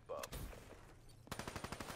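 Gunfire in Black Ops gameplay, a burst of loud close shots followed by a rapid even automatic volley of about ten rounds.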